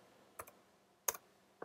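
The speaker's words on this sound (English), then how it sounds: "I'm typing in 1 and then" A few sparse, isolated clicks from a computer keyboard as numbers are entered into SketchUp drawing software, with quiet room tone between the keystrokes and no voice.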